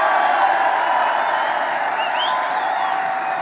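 Large crowd at a political rally in Nassau County, New York, cheering and applauding steadily and loudly throughout, a dense wash of voices with a few whoops rising above it.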